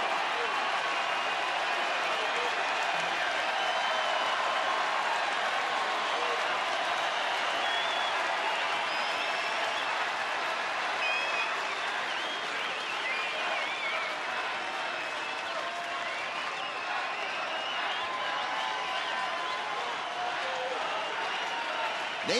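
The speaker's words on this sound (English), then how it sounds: "It's supportive applause for Joe Nathan and the Rangers" A baseball stadium crowd applauds Joe Nathan and the Texas Rangers, a broad, steady wash of distant clapping and cheering lasting many seconds, with a commentator talking over it.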